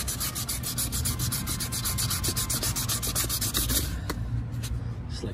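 Wet sanding peeling clear coat off an aluminum wheel down to bare metal: rapid, rhythmic back-and-forth rasping strokes, loud and close, stopping near the end with a few scattered scrapes.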